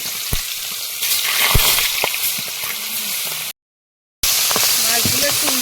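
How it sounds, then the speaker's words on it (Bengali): Fish going into hot oil in a wok, a continuous hissing sizzle with a few sharp clicks and knocks, broken by a brief gap of silence before the frying resumes. "কড়াইতে তেল দিয়েছি, এবারে মাছগুলো দেবো।"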